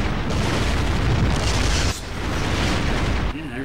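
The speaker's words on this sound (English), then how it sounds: "Alright, explosion." A Metal Gear Solid explosion roars with a heavy, rumbling blast that cuts off abruptly and then surges again, loud and close.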